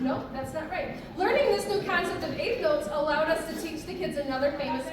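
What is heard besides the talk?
None of the usual background noises is heard.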